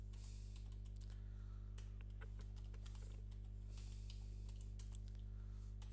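Typing on a computer keyboard while working in an Excel spreadsheet: faint, scattered keystroke clicks in short irregular runs over a steady low electrical hum, with no speech.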